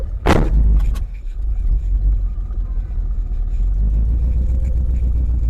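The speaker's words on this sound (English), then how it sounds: "Sounds good. Engine and transmission is healthy." An old 1968 AMC Javelin engine, after 37 years abandoned, idles and rumbles steadily at close range in first gear after a brief sharp clatter at the start, holding a low, even drone.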